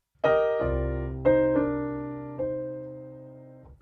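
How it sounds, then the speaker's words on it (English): A few dry piano notes and chords ring out one after another, each sustaining and slowly decaying, with no added reverb. "Starting off with our dry piano, sounds like this."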